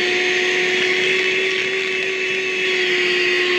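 An ArmorAll 12V wet/dry car vacuum with a wet squeegee attachment runs continuously at close range, a loud steady whine with a strong motor hum trying to suck up a penny.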